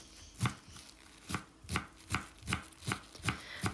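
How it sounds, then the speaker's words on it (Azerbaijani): A knife chops freshly washed garden herbs in about eight steady, evenly spaced strokes, close and crisp with no talking. "Hal-hazırda doğrayıram."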